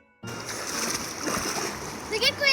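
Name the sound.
splashing water in a river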